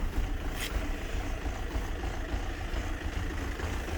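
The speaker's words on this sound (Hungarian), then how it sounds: "motor nagyon-nagyon egyenetlenül jár" Car engine with an EGR valve stuck fully open, smoking a little, idles roughly up close, a steady low rumble with an uneven, slightly pulsing beat and no talk.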